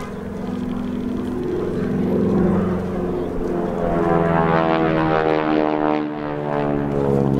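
A propeller airplane circling a descending parachutist at the Sun 'n Fun air show in Lakeland, Florida drones loudly overhead, its engine tone bending and shifting in pitch as it passes around, a steady throbbing hum.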